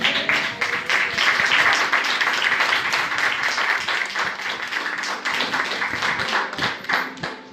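A church congregation claps together in a rhythmic, fairly close burst of applause that holds steady and then thins out toward the end.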